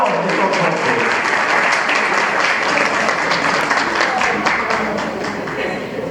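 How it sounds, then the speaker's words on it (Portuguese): A seated audience at an evening lecture event in Brazil gives sustained, dense applause to welcome the next speaker, loud and steady for several seconds before easing slightly. "Nós vamos receber com aplausos o doutor Nazário Nicolau"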